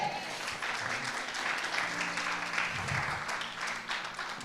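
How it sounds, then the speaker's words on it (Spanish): Congregation applause in a church during a Spanish-language sermon, a fairly quiet, continuous patter of many hands clapping with a low hum of voices beneath. "Dele un aplauso al Señor."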